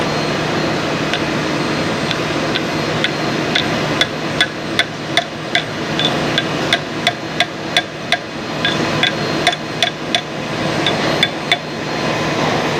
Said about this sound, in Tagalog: papaluin lang natin ng konti para matanggal yung pinakatakip niya dito sa puwet